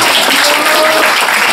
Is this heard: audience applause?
yes